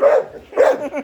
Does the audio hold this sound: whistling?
no